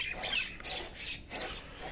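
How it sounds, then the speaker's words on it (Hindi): Crows give a few harsh calls, moderately distant and faint, in short bursts without any speech. "कौवा वेखो सारे ही वलेटी जा रहे।"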